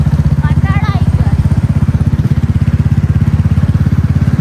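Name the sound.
motorcycle engine starting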